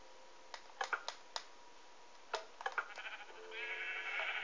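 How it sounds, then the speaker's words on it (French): Sheep bleat in a Disney video game on PS3, first as a few short, clicky bursts and then as a drawn-out, fairly faint bleat at the end. "Ah ben, encore deux moutons."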